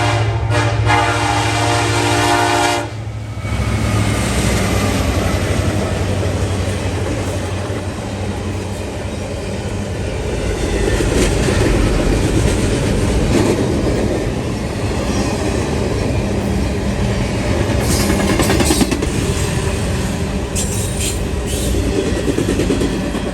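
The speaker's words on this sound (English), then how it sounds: "southbound NS train 266, Chicago to Columbus daily, is seen flying southbound with a pair of BNSFs" A long Norfolk Southern freight train led by a pair of BNSF locomotives rumbles steadily past at close range in northern Ohio, a loud continuous roar with rolling wheel clatter and a brief horn-like tone at the start.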